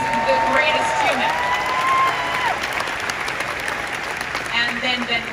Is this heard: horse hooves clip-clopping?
no